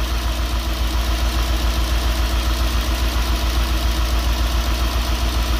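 A Nissan D40 Navara with a swapped-in V8 engine idles nearby with a steady, even low rumble and a rhythmic pulsing throb, no voices heard.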